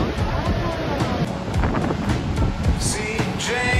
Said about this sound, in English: Watch the tide roll away.